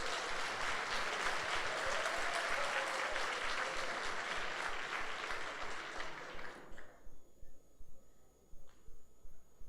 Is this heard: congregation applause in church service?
yes